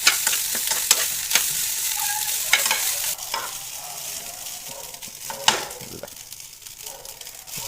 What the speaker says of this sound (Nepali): बासी भात हालेर फ्राई गर्ने।